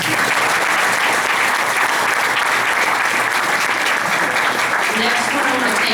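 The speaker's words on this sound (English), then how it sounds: "I want everybody to give him some applause" Sustained applause from a banquet audience at a high school boys basketball awards night, dense steady clapping filling the room throughout.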